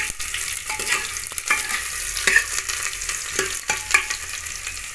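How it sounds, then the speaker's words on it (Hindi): Red chilli and turmeric fry in hot oil for a tadka in a Himachali village kitchen, a steady close sizzle broken by repeated scraping stirs of a spoon against the pan. "अब हम इसको चला लेते हैं, ऐसे भून लेते हैं इसको"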